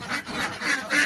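Ducks quack at a small duck farm in West Bengal, where the shed door is opened in the morning; there are four rhythmic, close, moderately loud quacks in quick succession.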